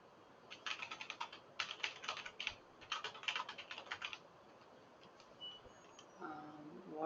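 Python code being typed on a computer keyboard: quick, close clusters of light key clicks arrive in bursts of several seconds, separated by short pauses, at a modest level with no talk over them.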